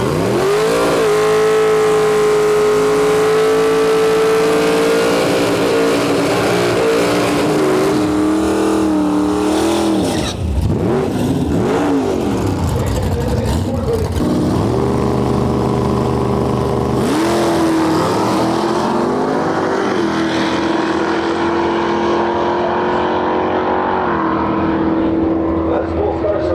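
A Dodge Dart Swinger drag racing at a dragway, its engine roaring loud and continuous with rising revs through the gears, a brief dip mid-run, then a long sustained pull, with a commentator's voice mixed in.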